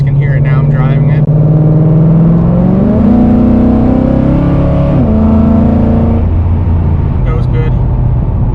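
A 2011 Ford Mustang GT engine running a flex fuel tune while driving, loud and close with a steady drone that climbs in pitch through gear changes, holding strong throughout.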